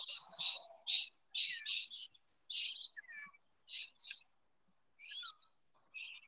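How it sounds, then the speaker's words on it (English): Birds chirping outdoors behind an online call, a series of short high tweets and trills in quick bursts, faint and somewhat distant, with no speech over them. "I want to listen to those beautiful birds"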